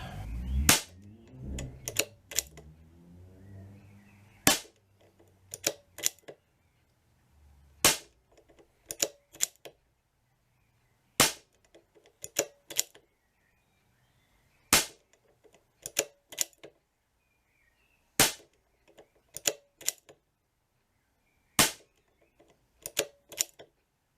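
Air Arms S200 air rifle after an Altaros air cylinder fit, firing a long string of sharp, loud, isolated shots at steady intervals, each a crisp crack with a short metallic tail, alone without talk.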